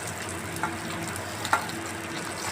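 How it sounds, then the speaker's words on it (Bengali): Katla fish pieces frying in hot oil, a steady close sizzle with a couple of brief clinks or stirs, no talking. "মাছগুলো খুব সুন্দর ভাজা হয়েছে"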